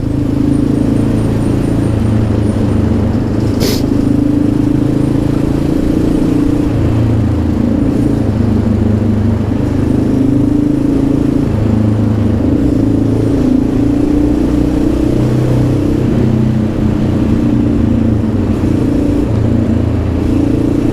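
XR650L or KLR650 motard-converted single-cylinder dual-sport motorcycle riding on a city road: a loud, continuous engine drone with small rises and falls in revs over wind noise, and a brief sharp click early on.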